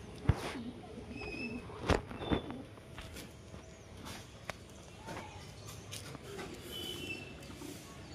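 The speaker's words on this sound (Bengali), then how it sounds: "এ হচ্ছে নর কবুতর" A male pigeon coos softly among other birds at a pigeon market, low murmuring calls under scattered knocks and thumps, with a few louder handling noises near the start.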